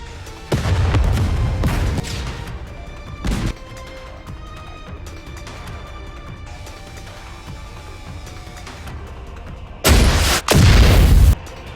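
Enemy artillery in Goddess of Victory: Nikke pounds the battlefield in heavy booming bursts, a cluster of loud blasts early, a single thud mid-way, then a final pair of powerful explosions after a quieter lull.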